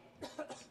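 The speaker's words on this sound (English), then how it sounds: "You might have just heard a little dry cough there" A quiet, dry cough from a player during the 2025 US Smash men's singles table tennis final, two or three short hacking bursts, heard from a distance against a low background hush.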